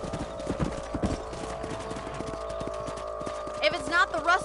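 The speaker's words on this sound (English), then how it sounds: "Let's get back on the horses and see what else is going on." Horse hooves clip-clop steadily in the Red Dead Redemption video game, a rhythmic patter of game horses on the move alongside background music, with a whinny-like flourish near the end.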